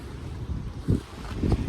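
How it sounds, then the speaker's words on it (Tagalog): Strong, very cold wind at sea buffets the microphone in low, rushing gusts, with a muffled boat-like rumble underneath. "Malakas ang hangin. Sobrang lamig."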